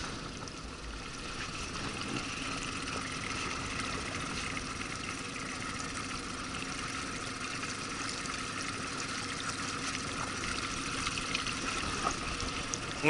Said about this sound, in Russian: Мотор у нас включен, держит струю.